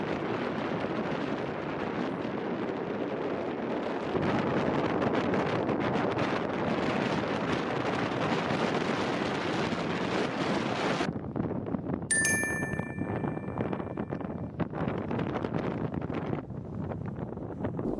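Violent wind roars across open tundra below a summit, a constant loud buffeting rush that batters the microphone, with a brief faint tonal whistle partway through.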